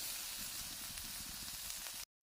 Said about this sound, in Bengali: ফুলকপিগুলো ভেজে নেব।